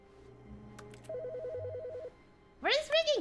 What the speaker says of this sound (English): Is my telephone ringing?